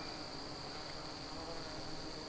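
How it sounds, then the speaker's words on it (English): A strong honeybee colony at a wooden cedar hive gives off a dense, steady buzzing hum, close and continuous without pauses, no voices present. "So this colony of bees is going pretty strong."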